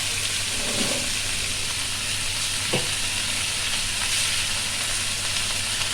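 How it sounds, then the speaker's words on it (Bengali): Prawns and spinach frying in a pan give a steady, close sizzle throughout, with faint scrapes from stirring. "এগুলোকে একসাথে ভালো করে নেড়ে নিচ্ছি।"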